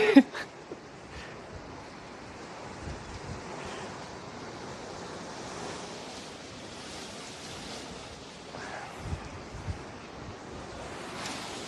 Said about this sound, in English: Oh, it's so windy.